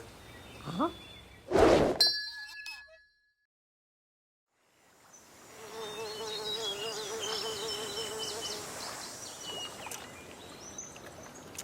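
Flies buzz in a continuous droning hum around fish in an animated comedy scene, following a couple of sharp clinks and a short silence, steady and fairly close with no speech.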